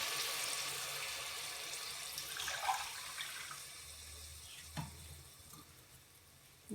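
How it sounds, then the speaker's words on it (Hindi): Glasses of water pour into a pot of chicken biryani, a steady splashing rush that slowly fades, with a small clink near the end. "2 गिलास हमारे चावल के हैं, 4 गिलास हम पानी के डालेंगे।"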